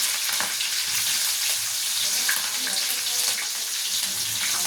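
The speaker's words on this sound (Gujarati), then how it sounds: "આ તજ, લવિંગ, બાદિયા, આ મીઠો લીમડો, આ લાલ લીલા મરચાં એડ કરીશું।" Whole spices, cinnamon, cloves and star anise, with curry leaves and red and green chillies sizzle in hot oil over a low flame, a steady close crackling hiss with a few sharper pops and no talk.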